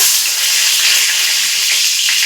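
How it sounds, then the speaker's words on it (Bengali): Dried red chilies fry in hot oil in a wok, a steady loud bright sizzle that holds evenly throughout with no talking. "তেলে দিয়ে দিব শুকনো লঙ্কা"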